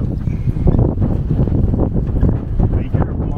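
Wind gusting around a Lagoon 420 catamaran swinging at anchor, a loud low buffeting rumble across the microphone, steady and close, with voices faintly underneath.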